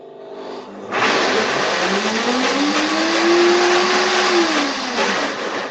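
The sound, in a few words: 9200A blender running 20-second preset blending ingredients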